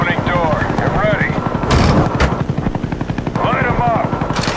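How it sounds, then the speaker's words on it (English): A Huey helicopter in a shooter video game approaches with loud, rapid rotor thumping, joined by bursts of gunfire and voices talking over the noise. "Huey on the way."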